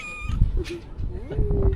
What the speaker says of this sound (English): Just in time, all the cats are here.